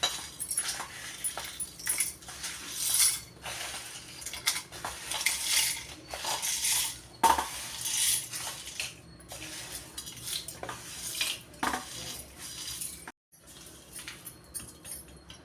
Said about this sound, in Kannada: ನಾನಿವಾಗ ಹುರುಳಿಕಾಳು ಹಾಕ್ಕೊತಾ ಇದ್ದೀನಿ.